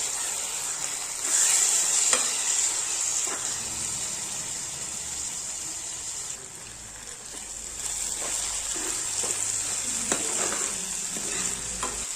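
Onions and tomatoes sizzle steadily while frying in a pan for palak paneer, with occasional stirring scrapes and a continuous hiss throughout, close up and without speech.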